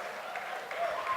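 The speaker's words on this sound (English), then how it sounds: "I want to give a big round of applause for Molly and Ryan" Brief applause from wedding guests during a toast, a soft, steady patter of clapping at a distance, fairly faint.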